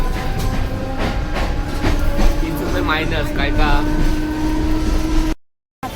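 A moving train rumbles and clatters continuously from inside the carriage while people talk nearby, before the sound cuts off abruptly near the end.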